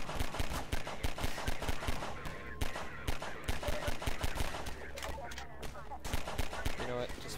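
Rapid gunfire in Half-Life 2 aimed at bombs, a dense run of sharp repeated shots hammering steadily throughout, loud and close, with a few busier bursts near the end.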